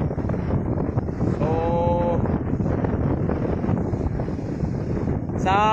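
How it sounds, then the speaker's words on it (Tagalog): Strong, steady wind from Typhoon Ulysses (Vamco) roars across the microphone at a view deck in the Philippines in loud broadband gusts, with a voice speaking briefly over it. "Malakas din po yung hangin, tsaka alon"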